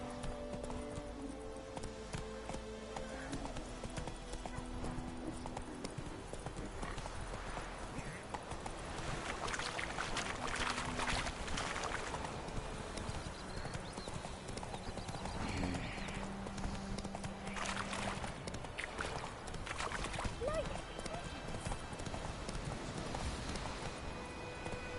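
Horse named Roach trotting, a steady run of clip-clop hoofbeats held for the whole stretch, with occasional soft voices and small movement noises nearby.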